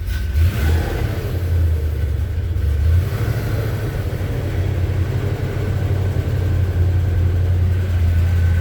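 1978 Chevy C10 Cheyenne short bed pickup with a new Edelbrock carburetor, its engine idling steadily to warm up, a loud, constant low rumble heard close by with no talking.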